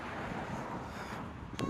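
Strong wind blowing outdoors on a sunny, cold Toronto street beside two schools, a steady rushing buffet across the microphone that gusts louder at the end.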